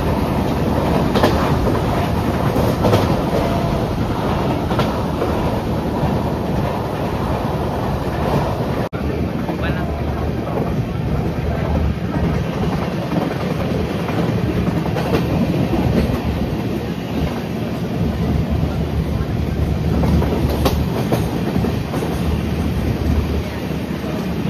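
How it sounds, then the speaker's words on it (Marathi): A train runs on its rails with a continuous loud rumble and rattling clickety-clack, steady throughout at close range, with faint background noise that may include voices. "तर आम्ही आता ट्रेन पकडतो पुढे"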